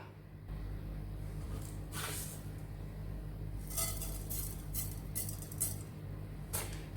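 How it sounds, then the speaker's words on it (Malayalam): Half a teaspoon of mustard seeds crackle and pop in hot oil while pickle is being made, scattered sharp spluttering bursts over a steady low pan hum, with no talking. "കടുക് പൊട്ടി വരട്ടെ"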